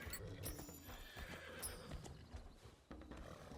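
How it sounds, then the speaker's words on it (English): A horse neighs while being captured in the video game Where Winds Meet, a loud whinny accompanied by clip-clopping hooves and rustling movement, all close and busy. "Press F to capture horse"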